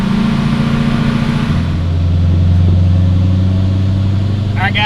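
LML Duramax diesel truck on a chassis dyno, engine droning loud and close as the throttle eases in, revs dropping at a gear change and then climbing steadily again under a continuous mechanical roar.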